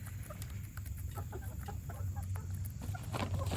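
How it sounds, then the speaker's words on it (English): Backyard chickens cluck in a steady scatter of short, overlapping calls, close by and fairly faint, over a constant low background hum with no talking. "chickens"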